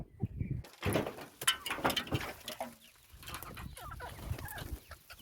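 Chickens cluck and murmur close by in a rural yard, with soft overlapping calls and scratchy movement after a brief quiet start, a few louder bursts early, then a steady low chatter.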